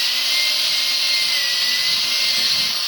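A power drill whirs steadily and loudly as it bores screw holes through plywood for a boat hull, a continuous high-pitched motor whine with no pauses.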